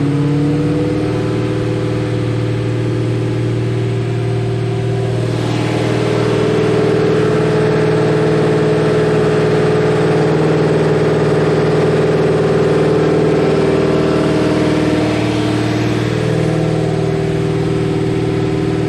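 A cammed Pontiac GTO V8 with a 3200 stall converter runs loud and close, its lumpy idle swelling into a few sustained revs and settling back, with no voices.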